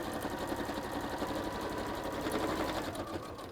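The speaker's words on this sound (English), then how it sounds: "So just a quick top stitch around the edge." A sewing machine runs steadily, top stitching around the edge of a baby changer or bread bag made with PVC and fabric, a continuous even whirr with fast rhythmic needle pulses, close and moderately loud throughout.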